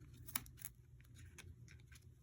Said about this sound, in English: You're going to take your really sharp scissors and cut your yarn